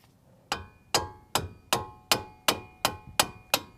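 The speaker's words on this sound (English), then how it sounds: "And then I got my rubber mallet, so hopefully I get this thing to loosen up." Rubber mallet striking a ratchet handle to break loose a front brake bolt on a 2014 Nissan Frontier, nine sharp ringing blows at a steady rhythm, close and alone.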